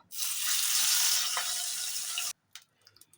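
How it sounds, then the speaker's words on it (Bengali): Prawns fry in mustard oil in a wok with a loud, continuous sizzle that stops abruptly after about two seconds, followed by a few faint clicks and taps. "আমি এখানে চিংড়ি মাছটা ভাজার জন্য আমি সর্ষের তেল ইউজ করছি"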